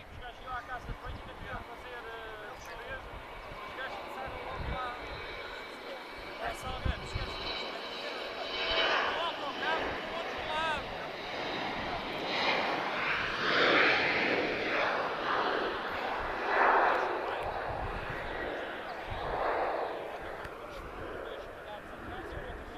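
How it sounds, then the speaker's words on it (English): Royal Air Maroc Embraer E190 jet bound for Casablanca, engine noise rising into a rushing roar with whining tones at the airport, heard under ongoing talk. "This is an Embraer E190. Royal Air Maroc. She's off to Casablanca."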